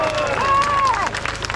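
A political rally crowd at a Frexit demonstration in Paris claps in a short, busy burst mixed with crowd noise, as a voice carries over the top.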